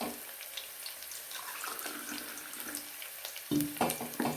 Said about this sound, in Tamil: இது முதல்ல நம்ம உளுந்துக்கு ஊற்றுறோம்.